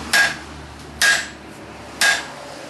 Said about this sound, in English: I'm hitting on an angle, and I'm trying to hit past the end of my anvil so I don't hit the anvil.